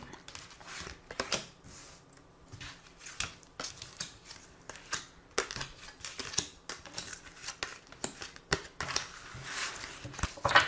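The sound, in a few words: shuffling and drawing tarot cards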